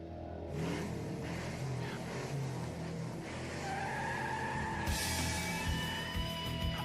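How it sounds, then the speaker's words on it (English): Race car engines rev and roar, with tires squealing over a continuous loud motor drone; a sharp, brighter burst of revving cuts in near the end. "Drivers, start your engines."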